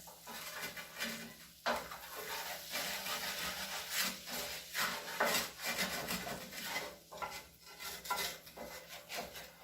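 A wooden spoon scrapes and stirs around a pan on low heat while red chile fried chicken gravy is made, producing continuous rough rubbing and scraping strokes up close, with no talking.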